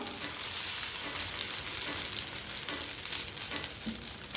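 Bottle gourd adai dosa frying in oil on a pan, producing a soft, continuous crackling sizzle that stays even and close throughout.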